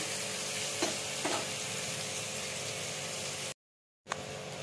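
Ginger, onion and garlic paste sizzles in hot oil while being stirred in a pan for a broccoli curry. Steady frying hiss with a couple of soft scraping strokes, then a sudden short silence before the sizzling resumes.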